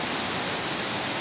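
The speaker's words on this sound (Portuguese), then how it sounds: "Ó, cachoeira." The Tamanqueiro waterfall in Santo Aleixo, Magé, Rio de Janeiro roars as a dense, steady rush of falling water, loud and close, with no voices over it.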